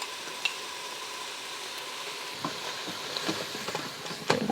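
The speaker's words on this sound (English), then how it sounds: "Stir this up." Curry powder and turmeric fry in a pan with a soft, steady sizzle, joined by scattered scrapes and taps as the spices are stirred, close and quiet with no voices.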